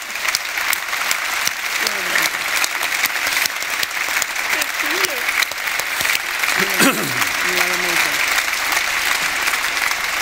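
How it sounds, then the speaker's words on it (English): A warm, steady round of audience applause at a conference on fear and courage, honoring two women on stage. It fills the room throughout, with faint voices rising briefly beneath the clapping. "ask for a really warm applause for these two amazingly inspiring and courageous women"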